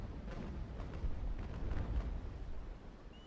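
A naval broadside barrage from sailing frigates like the Trincomalee and Constitution in a ship combat game, as a rolling rumble of deep booming cannon blasts that swells and fades over a few seconds.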